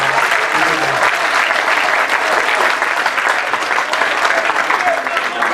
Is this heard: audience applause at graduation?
yes